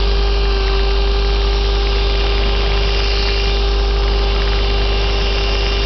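A vacuum seeder machine picking up small saltbush seeds hums steadily and loudly, a constant mains-like drone with no pauses and no voices.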